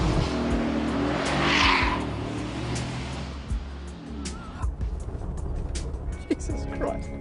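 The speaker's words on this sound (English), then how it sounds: "What's it like to drive an off-roader with a separate body and chassis that's got 544 horsepower?" A 544-horsepower off-roader with separate body and chassis and a 7-speed automatic is driven hard, its engine roaring loud and close with tire squeal and skidding, while a voice talks over it.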